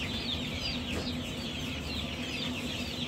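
A dense flock of chickens clucks continuously at a poultry hatchery that also houses turkeys, ducks, guineas and quail, a busy, close chorus of overlapping calls with no talking.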